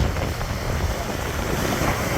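Wind gusting on the Seaton Carew coast at Hartlepool, a steady broadband rush buffeting the microphone, with faint surf-like noise beneath and no voices.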